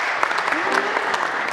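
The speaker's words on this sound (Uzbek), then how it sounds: "Qarsak yetishmayapti. Qarsak qani?" An audience claps together in a hall during a stage show, a dense burst of applause with sharp individual claps, loud and close, with a brief voice rising underneath partway through.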